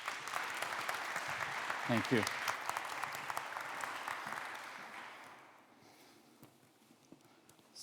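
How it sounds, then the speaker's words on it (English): A DefCamp conference audience claps for a speaker, with a steady round of applause that fades out after about five seconds while a brief spoken thanks is heard over it. "Let's give him a big round of applause."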